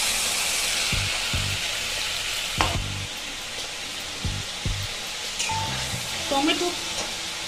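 Loud sizzling of tomato paste hitting hot oil, with repeated spoon scrapes and stirring clatter throughout, close up.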